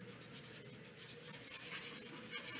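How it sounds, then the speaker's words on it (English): A green watercolor pencil scratches across paper in quick, rhythmic strokes, close and faint, with no talking. "I know it looks like you're just coloring right now"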